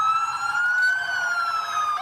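New York ambulance siren wailing loud and close, one sustained rising and falling tone with strong harmonics and nothing else over it.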